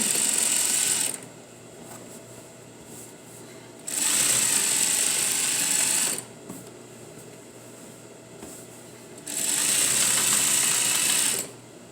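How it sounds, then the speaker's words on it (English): A sewing machine edge stitching a folded jeans seam along the front leg runs in three loud, steady bursts of rapid whirring needle motion, separated by quieter pauses with faint handling sounds. "I'm just going to edge stitch, keeping the seam here folded on top or underneath the front leg"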